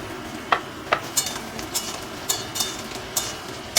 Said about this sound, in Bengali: এই দুটো আলু একটু আমি আগে ভেজে নেব।